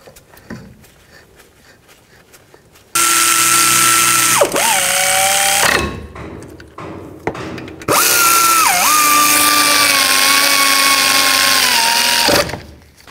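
Power tool driving in brake caliper slide pins on a 2007-14 GMC Sierra 3500HD, two loud sustained whirring runs, close, with brief pitch dips as the pins seat, separated by a short gap.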